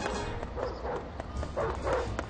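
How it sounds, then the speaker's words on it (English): A dog barks a few times in the Ed Edd n Eddy Mis-Edventures video game, the barks thin and partly buried under a busy game soundtrack and effects. "you shouldn't really be attacking dogs anyway"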